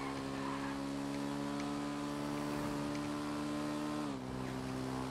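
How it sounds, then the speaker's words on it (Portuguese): A motorcycle ridden in first person through GTA Online, its engine droning steadily with a strong tonal whine that dips briefly as the rider shifts, continuous and close with no speech. "é meio estranho pilotar moto em primeira pessoa aqui no jogo"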